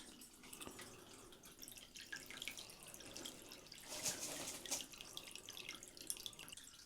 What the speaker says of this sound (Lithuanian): Tai šiuo metu išleidinėjam vandenį.